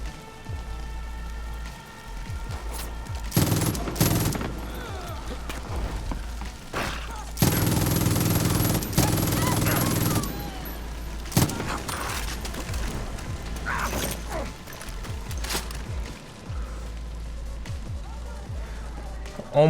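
Scattered gunfire in the Far Cry New Dawn video game, with sporadic shots and a couple of louder sustained bursts amid ambient game noise, mostly without talk.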